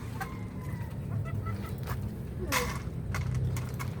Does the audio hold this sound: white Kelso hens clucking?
yes